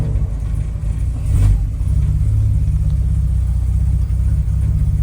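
A Jaguar XK140 engine started cold, with water temperature at zero and low oil pressure, giving a loud steady rumble, one brief rev surge early on, then settling into an even, continuous idle close by.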